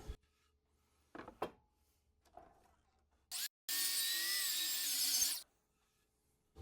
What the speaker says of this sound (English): I'm gonna wind up putting a taper from 3/8 at the bottom to nothing at the top at the miter box